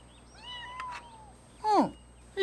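A cat meows close by, a short thin call followed by a louder, longer, rising meow, with a quieter voice and faint background sounds around it.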